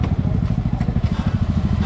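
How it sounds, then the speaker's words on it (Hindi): A motorcycle engine rumbles nearby with a steady, rapid throbbing pulse as the bike pulls away on a group ride with superbikes. "तो अपनी बाइक निकल चुकी हैं"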